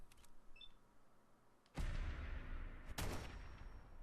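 A gun firing in Fallout 4: after a quiet start with faint clicks, two loud, close gunshots boom out about a second apart, each leaving a long rumbling tail.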